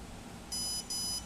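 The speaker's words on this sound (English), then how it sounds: "It'll beep once for normal." An F450 quadcopter kit's ESC beeps at startup, giving two even, high-pitched electronic tones in quick succession over a quiet background hiss.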